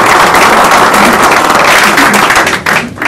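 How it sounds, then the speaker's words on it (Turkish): Loud, dense applause fills a hall at a family celebration, with many hands clapping at once and scattered thuds, before it starts to thin near the end. "Burayı bir alkışlayalım."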